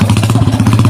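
Motorcycle engine idling with a steady, throbbing low pulse, close by and fairly loud on its own, during a scuffle at a roadside food stall.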